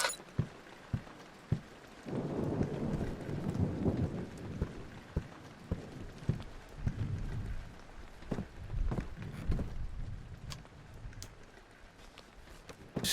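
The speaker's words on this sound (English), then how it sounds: "the thunder itself is very creepy" Rain falls steadily in the horror video game Amnesia: The Great Work, with deep rolling thunder swelling in long rumbles and scattered sharp cracks, heard alone without talk.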